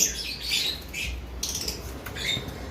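Small hyper conure parrots give sharp, high chirps and squawks in brief bursts over a low background rumble, fairly close and alone without talk.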